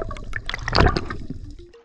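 Caribbean sea water off St. Croix, US Virgin Islands, heard while heading out to dive: a short burst of rushing, gurgling water that swells to a peak midway and then fades, with no voices.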